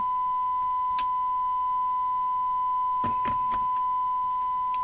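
A steady, pure sine wave tone recovered from a UK LCL 2740FM CB radio during service alignment, continuous at an even level, with a few brief clicks and knocks over it.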